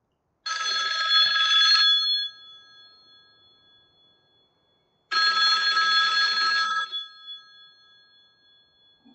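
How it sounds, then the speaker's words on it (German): Two loud electronic telephone rings from an outgoing call in Farming Simulator 19, each burst lasting under two seconds and trailing off into silence before the next. "ich will mal Testarossa anrufen, mal gucken, ob der da ist"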